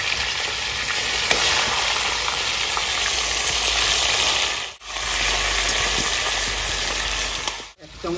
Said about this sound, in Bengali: সবার আগে কিন্তু আমরা চিকেনটাকে ভেজে নিচ্ছি